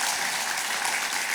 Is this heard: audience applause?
yes